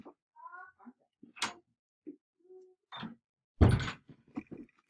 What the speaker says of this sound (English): I have a cat scratching at my door